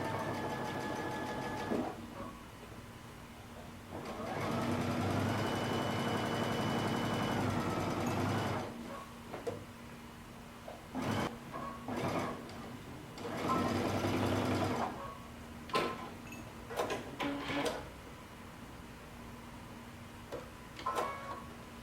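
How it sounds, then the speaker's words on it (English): A sewing machine stitches through all layers of cape fabric in two long, steady runs, followed by shorter bursts and clicking handling sounds, close and fairly loud. "And now you're going to sew through all layers."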